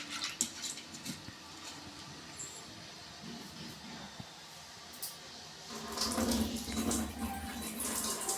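Toor dal lentils are swished and rinsed in water in a bowl, with splashing and sloshing that grows busier and louder in the final seconds, close up and mostly without talk.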